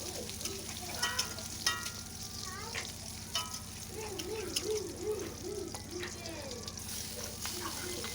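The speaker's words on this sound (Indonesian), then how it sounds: "kita goreng sampai keluar harumnya gitu, atau bawangnya setengah matang" Onions frying in a pan with tomato, shrimp paste and chilies at home, a soft low sizzle running steadily while a person talks over it.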